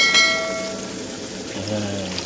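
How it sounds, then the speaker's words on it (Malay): Water is poured into a cooking pot while a spiced meat dish is made, a short, close splash and gurgle at the start that eases into a quieter trickle and bubbling. "Okey, kita tambahkan lagi air secukup je."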